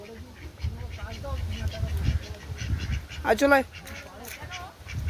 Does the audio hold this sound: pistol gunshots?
no